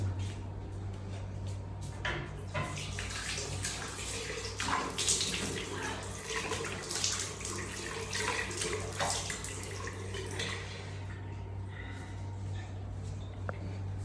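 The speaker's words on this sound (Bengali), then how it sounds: "মুখ হাত ধুয়ে একটু ফ্রেশ হয়ে নিই" Tap water runs steadily in a bathroom sink while someone washes face and hands, with soft splashes and occasional knocks of cupboard or fixtures, close and continuous throughout.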